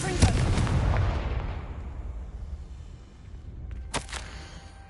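A Confringo fire blast spell cast in the video game Hogwarts Legacy: a loud burst of fiery explosive roar that slowly decays into a rumbling tail, followed by a second sharp crack near the end.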